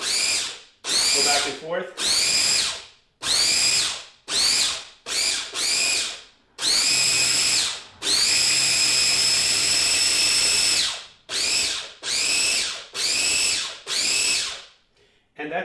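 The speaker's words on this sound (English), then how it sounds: "So all we're going to do is grind this up, start to do a couple of grinds" A powered grinder processes horseradish with red beets and vinegar in repeated short bursts, a loud whirring that starts and stops about a dozen times, with one longer run; a voice briefly speaks between bursts.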